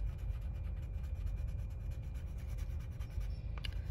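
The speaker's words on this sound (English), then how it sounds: "make sure that you're using small circles, make sure that you're spinning your pencil in your hands" Colored pencil shades paper in small circular strokes, a soft steady scratchy rubbing heard close up with a faint rhythmic grain and no voices.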